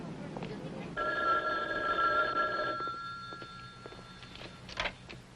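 A telephone rings with a steady electronic trill for about two seconds, then stops, with voices talking faintly over a noisy indoor background; the scene is from a 1979 film.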